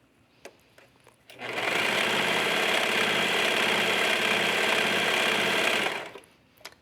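A sewing machine stitches an elastic waistband into folded fabric for jogger pants, running in one steady, close, continuous burst of about five seconds after a few faint clicks, then stopping.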